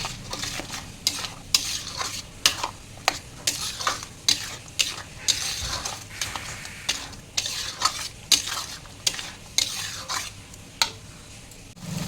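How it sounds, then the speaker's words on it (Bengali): Masala spice paste is stirred and fried in a pan, giving a steady sizzle broken by regular scraping strokes of a spoon about once a second, close and clear, with no talking. "এবার ভালো করে মশলাটা কষিয়ে নেব।"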